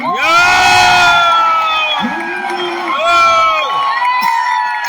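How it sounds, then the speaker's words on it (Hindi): An audience at a function erupts in loud cheering, with children shouting and whooping in long rising and falling cries that come in waves, swelling twice over a noisy crowd. "तो जोर से ताली बजा के हल्ला मचा के बताओ मजा आया नहीं आया?"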